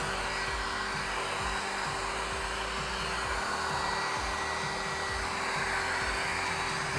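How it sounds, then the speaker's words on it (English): Heat gun blowing hot air over vinyl wrap on a Cybertruck bed side panel, a steady loud whooshing hum with a constant tone throughout, no voices. "Put your heat gun far away."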